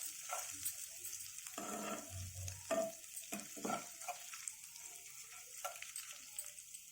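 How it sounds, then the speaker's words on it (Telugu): Grated ginger fries in a pan, a faint, continuous sizzle and crackle with occasional stirring scrapes and light clinks from a utensil. "అల్లం వేగాలి."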